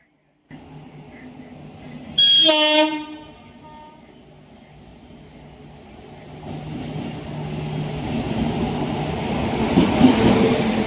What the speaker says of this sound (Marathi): ट्रेन आलेली आहे आपली